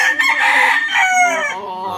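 A golden boy gamefowl rooster, three-quarter golden boy and one-quarter lemon, crows once loudly and close, a full drawn-out call that trails off over about two seconds.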